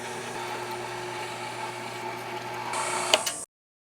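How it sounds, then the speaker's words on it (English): A meat grinder with a coarse die on it grinds cold chorizo meat, a steady close motor whine and churning hum that runs without pause for a few seconds and then stops abruptly, with no voices. "now that our meat is nice and cold, through the meat grinder we go."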